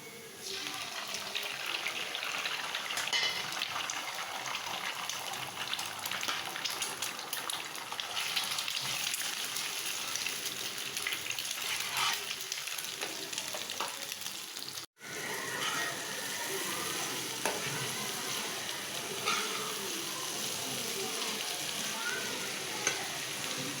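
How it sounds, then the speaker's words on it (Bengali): Egg and onion bhaji fries in a pan, a long steady close sizzle layered with the soft scraping of stirring, briefly dropping out for an instant midway before resuming, with no speech. "তো এই যে ভাজিটা আমি একটু আরও ভাজা ভাজা করব।"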